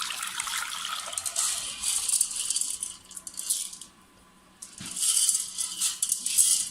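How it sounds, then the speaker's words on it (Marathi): Water rattles and trickles through a sieve into a bowl as soaked sorghum drains in bursts, briefly going quiet before the draining starts up again, close by. "पूर्ण ज्वारीचं पाणी आपण निथळून घेणार आहोत"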